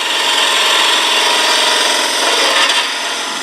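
Wood on a lathe is shaped into a pillar candle stick with a tool laid on its bevel, giving a loud, continuous rough scraping and rasping hiss close up.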